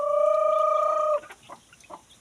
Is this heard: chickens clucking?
yes